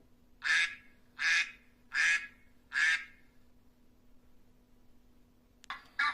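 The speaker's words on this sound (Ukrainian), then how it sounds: "А як закахкали качки?" A duck quacks four times in a steady, evenly spaced rhythm, close and clear, followed by a pause and a brief noise at the end.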